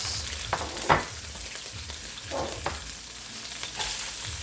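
Carrots sizzle and fry in a hot pan for a Trinidad-style lo mein, with a steady crackling hiss and a few stirring bursts throughout.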